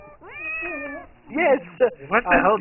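A cat meows in the stealth video game Monaco: one drawn-out, wavering meow, clear and fairly loud, followed by a person talking excitedly.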